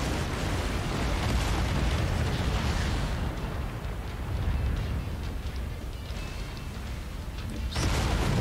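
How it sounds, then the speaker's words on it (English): A mech exploding in MechWarrior 5: Mercenaries, a loud, rumbling roar of blast and debris that carries steadily across the whole stretch with a fresh burst near the end. "It's about to go all explodey."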